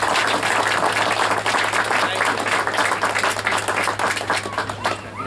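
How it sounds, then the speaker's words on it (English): Loud, dense audience applause for a musician at an evening event, sustained close clapping from a crowd throughout with a faint steady hum underneath. "A round of applause for our musical entertainment,"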